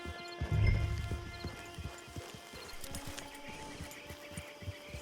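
Horse hooves clip-clop on the ground in the Red Dead Online video game, a steady walking rhythm of hoof strikes near the listener, with a brief snort or neigh near the start and low game ambience behind.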